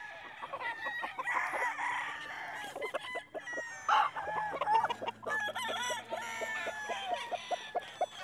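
Young gamecock stags in a conditioning area crow and cluck close by, with several overlapping calls and short clucks in a lively, uneven stream.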